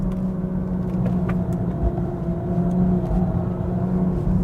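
A BMW M240i xDrive coupe drives along at a steady pace, its engine giving a continuous low rumble with road noise heard from inside.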